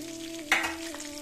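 Tempering spices, peanuts and dried chillies frying in a pan for curry leaf rice: a soft background sizzle with one sharp stir or crackle midway, over a low steady hum.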